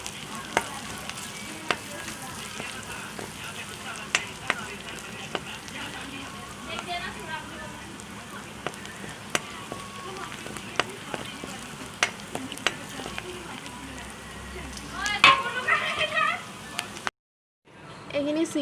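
Spices, namely chicken masala, garam masala and coriander powder, are stirred in a pan over a steady soft frying crackle. Scattered utensil clicks and scrapes run through it, a louder burst comes near the end, then a brief silence.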